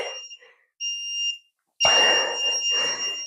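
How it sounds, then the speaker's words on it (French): Short electronic beeps from a workout timer followed by a long, loud sustained beep tone marking the end of the sequence, over a burst of broadband noise. "Tu vas entendre avec le bip long que ta séquence est terminée."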